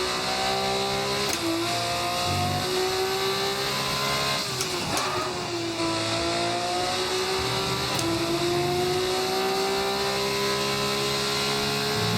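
F1-style race car engine in a career mode video game, a loud sustained high whine that climbs through gears, with drops at gear shifts and brief tire noise, no talk.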